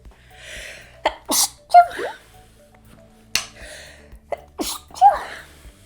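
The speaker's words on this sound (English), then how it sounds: "Okay, I have to sneeze." Two sneezes close up, each with a sharp intake of breath before a forceful burst, separated by a brief quiet pause.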